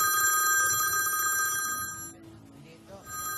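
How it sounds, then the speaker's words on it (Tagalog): A landline telephone rings with a steady, bright electronic trill that briefly cuts out and then resumes, close by. Faint voices murmur underneath. "Ayun, yung telepono."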